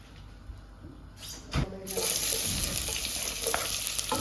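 Oil goes into a hot kawali and breaks into a loud, bright sizzle about two seconds in, after quieter clinks and handling, then hisses steadily to the end.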